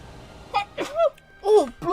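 A single nearby sneeze from someone during a casual Pokemon X gaming session, a short voiced burst with a squeaky tail, followed by another brief vocal outburst.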